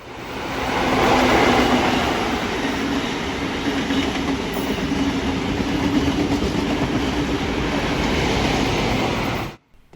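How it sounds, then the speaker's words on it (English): An XPT passenger train bound for Casino passes at Petersham in Sydney, a loud sustained rumble and rail roar filling the whole stretch before cutting off abruptly at the end. "Here is the XPT to Casino."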